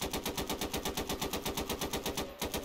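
Soldiers in a desert battle video game fire a rapid automatic gun burst, evenly spaced sharp shots in a fast unbroken rhythm, fairly faint and without talk.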